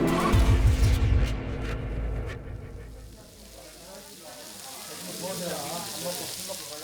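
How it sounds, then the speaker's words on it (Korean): Fatty Korean pork belly (samgyeopsal) sizzling on a grill plate, a loud, dense crackle in the opening seconds that eases into a steadier, softer hiss, with low rumble beneath. "지글지글 타오르는 고기"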